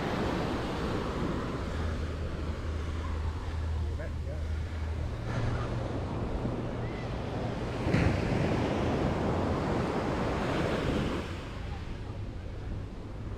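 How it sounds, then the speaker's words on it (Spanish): Ocean surf rolling onto a beach at Playa del Carmen, a constant wash of waves with wind buffeting the microphone and a louder surge near the end. "estas son las playas de aquí, de Playa del Carmen"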